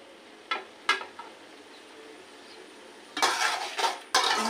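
Pasta sauce stirred in a pan: a few sharp utensil clinks against the metal, then louder scraping strokes over a faint background sizzle, close by.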